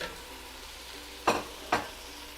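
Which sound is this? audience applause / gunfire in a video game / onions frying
onions frying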